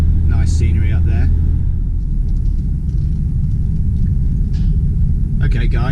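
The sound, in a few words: car driving on the way up to El Burgo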